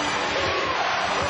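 Basketball arena crowd during a Lakers–Knicks game late in the fourth quarter, a steady loud hubbub of massed voices that fits a chant urging defense, continuous with no break across the moment.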